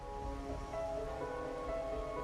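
Steady rainfall in the video game Wuthering Waves, a soft continuous patter with gentle background music tones, no voices.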